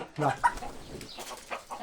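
Hens cluck at a farm where native chickens are kept for eggs, giving a few close, short bursts between quieter gaps.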